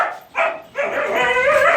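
A dog barks loudly and close by among Pomsky puppies, two sharp bursts with a short gap between, the second stretching into a longer, whining yelp.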